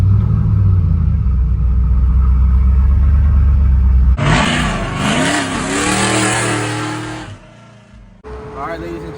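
An OBS Ford pickup's engine revs hard and loud up close, surges, then drops away as the truck pulls off from a car meet, with a short rev returning near the end.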